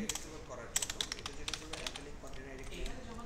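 Text is typed on a computer keyboard in a run of close, quick, irregular key clicks, and a person talks over the typing.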